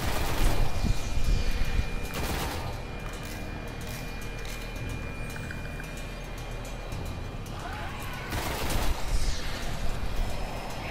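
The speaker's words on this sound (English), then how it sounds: "Shotguns don't go very far." Shotgun fire in the Destiny beta: several sharp blasts, one near the start and another around the two-second mark, then a cluster toward the end, over steady game ambience and background noise.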